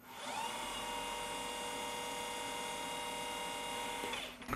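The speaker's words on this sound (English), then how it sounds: "Removing any hairline burrs there." A small stainless steel part spins in a machine while a Cratex abrasive stick deburrs it, producing a steady, even high whine that holds for several seconds before winding down at the end.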